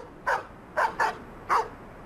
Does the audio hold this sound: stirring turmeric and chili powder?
no